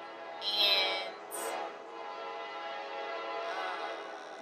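A train horn sounds over the steady rumble of a passing train, with a loud blast early on and a second burst shortly after, then continuous rail noise through to the end.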